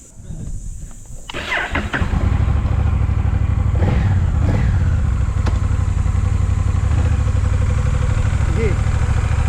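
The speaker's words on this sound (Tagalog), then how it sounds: "Riding experience, test ride natin yung motorsiklo." A Honda Rebel 1100 motorcycle on a test ride, its engine starting up and then running with a steady, loud low drone close by, with some clatter and a voice briefly heard.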